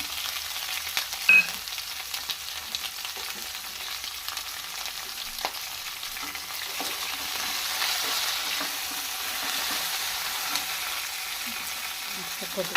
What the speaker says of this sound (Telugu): వీటిని బాగా వేయించుకున్నాం.